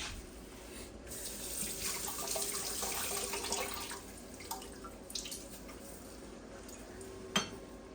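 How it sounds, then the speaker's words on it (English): Fresh cilantro rinsed under a running kitchen tap: a steady close stream of water splashing into a sink, with a few faint drips and light clinks of dishes near the end. "But let me wash it."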